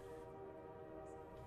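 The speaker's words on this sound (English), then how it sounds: "Did you hear that train that just went by" A train passes at a distance, a steady faint rumble with sustained horn-like tones, heard alone without talk.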